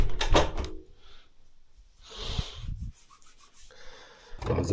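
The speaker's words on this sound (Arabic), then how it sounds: "بس نقفل الباب ده عشان الجو تلج" A door being pushed shut on a freezing day, with scraping and rubbing of the door moving followed by a soft thud, moderately near and with no talking.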